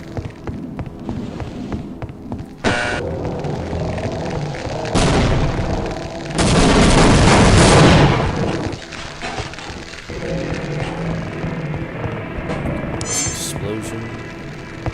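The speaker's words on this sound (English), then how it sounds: "Explosion." Explosions in Half-Life: Opposing Force boom loudly and deeply, with a short burst, then a heavier, longer rumbling blast, over a humming, throbbing background.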